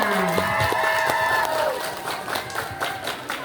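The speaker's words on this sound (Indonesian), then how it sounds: "Tepuk tangan sekali lagi untuk paslon nomor urut 2." An audience at a student executive board (BEM UKPM) candidate debate applauds candidate pair number 2, a crowd of steady clapping with cheering, mixed with a voice over a sustained tone and fading toward the end.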